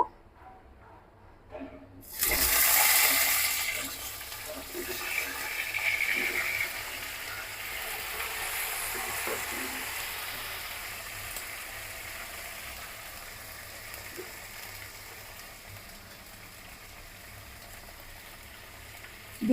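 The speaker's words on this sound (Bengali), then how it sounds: "হলুদ তেলের মধ্যে দিয়ে দিব এবার ভালো করে ভাজতে হবে আলু বেগুনগুলো" Potatoes and eggplant dropped into hot oil with turmeric set off a loud burst of sizzling that slowly settles into a steady, fainter frying hiss, with occasional clinks of a utensil.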